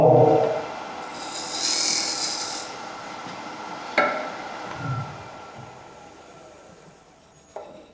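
A wooden piece is worked and rubbed by hand, with rasping friction up front, a sharp knock midway, then quieter scraping and a final tap as it is fitted, close and without talk.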